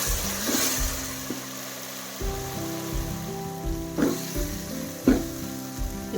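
Green chillies fry in hot oil with a steady sizzling hiss, broken by a few louder spatters and stirring scrapes. No one speaks.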